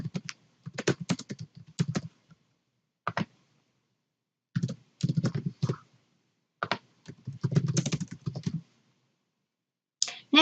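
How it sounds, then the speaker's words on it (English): Answer options are typed on a computer keyboard in irregular clusters of close, crisp key clicks separated by short silent pauses. "the correct answer is the one I just typed in."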